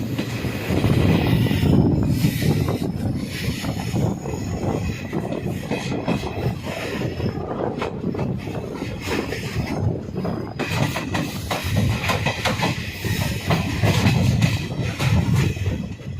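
Salasar Superfast passenger train running on rails: a continuous loud rumble and rattle of wheels and carriages with rhythmic clatter and occasional high squeal throughout, no talk.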